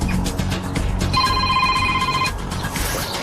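A telephone rings for about a second amid a noisy doorstep encounter with bailiffs, a bright electronic trilling tone standing out over low background rumble.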